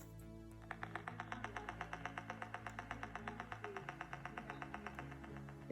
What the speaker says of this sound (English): So I put the lead on a very low octave, and it basically creates this kind of click.